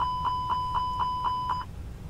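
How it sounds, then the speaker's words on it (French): Engine number 2 fire alarm in a Fenix A320 flight simulator cockpit: a steady electronic tone with regular chime pulses about four per second, clear and loud, then cutting off abruptly, no talk. "vous avez sur le moteur numéro 2 l'alarme incendie."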